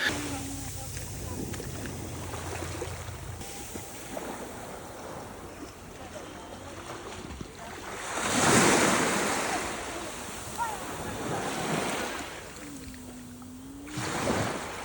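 Waves wash onto a sandy beach in a bay on the Montenegro coast, rising and falling in surges with some wind buffeting the microphone, while people talk intermittently over the surf.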